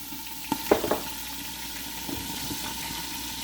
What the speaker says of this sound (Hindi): अब इसमें मैं थोड़ा सा पानी डाल के तो इसका कलर निकाल लूँगी